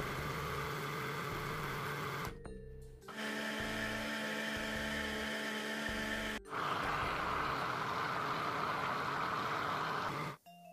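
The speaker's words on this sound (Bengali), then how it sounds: "দিয়ে এটাকে আবার ব্লেন্ড করে নিব ঠিক একই প্রসেসে থেমে থেমে একটু পর পর।" Blender whirring through frozen mango puree in short pulses, a loud motor whine that cuts off briefly twice and starts again, with grinding churn beneath the steady hum.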